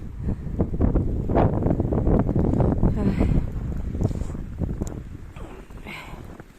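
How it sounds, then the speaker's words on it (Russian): Strong wind roars in a blizzard in the Arctic north near Labytnangi, buffeting the microphone with loud, gusty rumbling that eases toward the end. A faint voice comes through under the wind noise. "Сейчас дорогу переходили, чуть не снесло боковым ветром."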